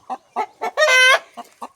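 A hen laying her first egg lets out a run of short, loud clucks close by, broken midway by one longer, drawn-out squawk before the clucking resumes.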